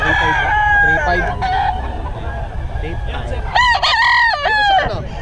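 A Gold Sweater gamecock rooster crows loud and close, with a second strained crow near the end. Clucking and farmyard noise fill the background, and people talk nearby.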